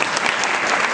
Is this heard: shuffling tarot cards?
no